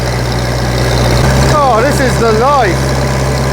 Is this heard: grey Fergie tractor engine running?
yes